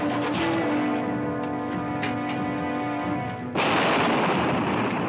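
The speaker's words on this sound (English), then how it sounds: "There's an explosion" A grenade explosion in a movie scene bursts in suddenly after a tense music-backed stretch, a loud broadband blast that stays roaring to the end.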